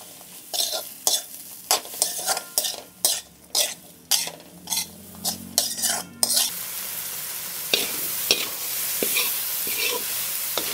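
Onions and turkey berries sauté in a pan, with close, rhythmic stirring and scraping strokes for several seconds before settling into a steady, continuous sizzle. No one speaks.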